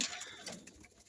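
Pigeons coo softly in a short, faint burst of low bird calls, heard close by with no talk over them.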